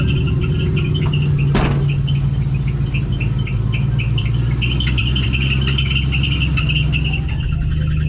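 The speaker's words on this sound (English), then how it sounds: "Don't worry about that squeaking sound, that'll go away in a minute." Continuous high-pitched squeaking over a Chevrolet Vega engine's steady idle hum while it warms up, chirping repeatedly throughout, close and loud.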